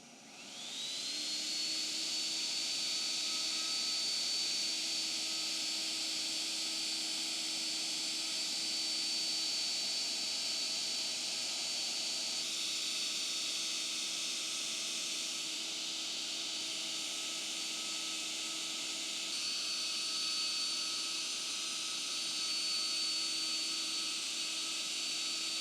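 A Trend T8 router spins up with dust extraction attached, settling into a loud, continuous high-pitched whine that holds steady for the whole stretch.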